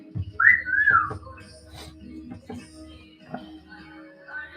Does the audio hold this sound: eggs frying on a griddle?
no